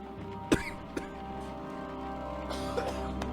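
A game character coughs twice in quick succession, then clears the throat more softly a moment later, over a steady low background hum.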